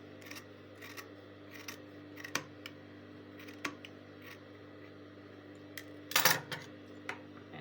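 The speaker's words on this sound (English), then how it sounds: "So I'll cut down most of the sewing allowance." Scissors snip through the fabric seam allowance of a princess-dart blouse with a yoke collar, a scattering of quiet close cuts with one louder, sharper snip near the end.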